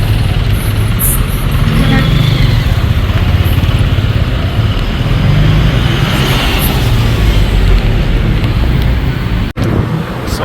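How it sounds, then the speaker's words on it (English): A motorbike ride through Nairobi traffic, a continuous close engine drone and wind roar with surrounding vehicles, steady and loud throughout with a brief dropout near the end. "I had to take a motorbike"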